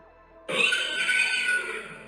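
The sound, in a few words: horse screaming in a barn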